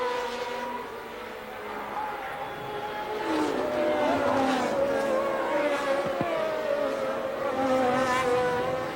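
Formula 1 racing cars from the 1981 French Grand Prix roar past at a distance, their high engine notes rising and falling in overlapping sweeps beneath a steady crowd and broadcast ambience.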